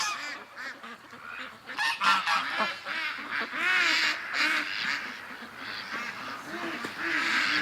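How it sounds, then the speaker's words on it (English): A yard crowded with ducks fills the air with loud, overlapping quacks and honking calls, a dense chattering flock heard up close with no talk over it. "The yard is full of ducks. Listen to them."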